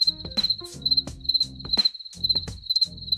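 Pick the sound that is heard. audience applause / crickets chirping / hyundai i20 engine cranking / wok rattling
crickets chirping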